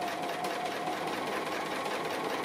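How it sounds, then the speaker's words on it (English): A sewing machine runs steadily, stitching back along a line of appliqué on fabric. It makes a continuous mechanical whir and hum with no breaks and no talking. "what I'm going to do here is just come back up that same line of stitching again"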